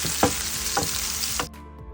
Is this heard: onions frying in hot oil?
yes